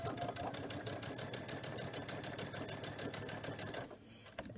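Near and steady, a sewing machine runs a straight stitch along the edge of appliqué fabric, its rapid rhythmic needle chatter continuing for several seconds before abruptly stopping.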